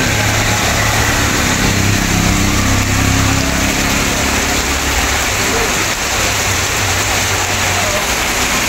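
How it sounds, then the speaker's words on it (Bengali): Heavy monsoon rain pouring down in a Bangladeshi street location, a loud, constant roar of rain on surfaces with a low engine hum running underneath. "প্রচণ্ড বৃষ্টি এবং আকাশে প্রচণ্ড মেঘ"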